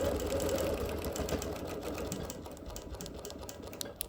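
A sewing machine quilting with thin polyester thread runs steadily throughout, a close, even mechanical whir with rapid needle stitching and no voices.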